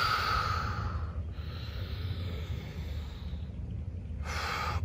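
Slow, close breaths drawn in through the nose and pushed out through the mouth during a beginner Pilates back workout, with long airy inhales and exhales filling the whole stretch.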